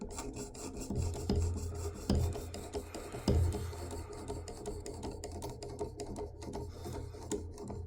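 Steady scraping strokes of a Kershaw Blur knife blade drawn along a ceramic sharpening rod, a rough rasping rhythm with a few heavier thuds, close and continuous.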